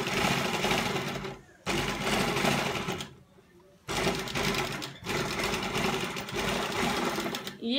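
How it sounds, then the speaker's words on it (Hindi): A sewing machine stitches an embroidered neck design on buckram, running in loud, steady rattling bursts separated by short pauses, with close, mechanical chatter throughout. "आपने मशीन चला दी।"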